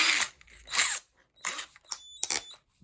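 Cheap new drill run as a screwdriver on Torx screws, several short whirring bursts with pauses between, close and fairly quiet, no talk.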